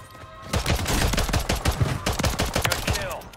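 Rapid bursts of shotgun fire in Call of Duty MW3 on Rebirth Island, several close, loud, punchy blasts in quick succession over about three seconds with faint game ambience.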